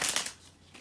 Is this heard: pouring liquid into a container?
no